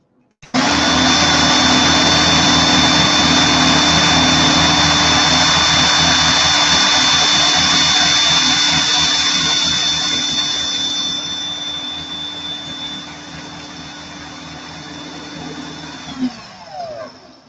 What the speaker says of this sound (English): I actually can't believe this drill hasn't ran out of battery yet.